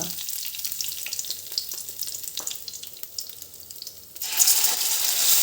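Marinated brinjal slices shallow-fry in oil in a pan, giving a continuous close sizzle with scattered crackles, which swells louder toward the end.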